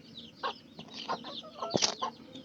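Chickens cluck and squawk close by in short, scattered calls, soft and quiet overall, with one louder squawk near the end.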